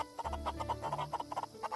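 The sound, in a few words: chickens clucking in video game Forest of Drizzling Rain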